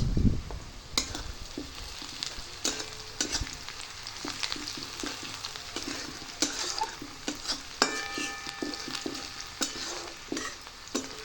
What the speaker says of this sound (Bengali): তেলের মধ্যে দেওয়া হচ্ছে পেঁয়াজ